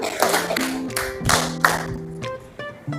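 Classroom students clap in short groups on call, several sharp hand claps spaced across a few seconds with brief pauses, a sustained voiced tone underneath and quieter taps near the end.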